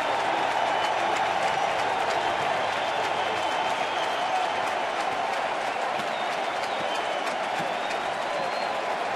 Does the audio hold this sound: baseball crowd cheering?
yes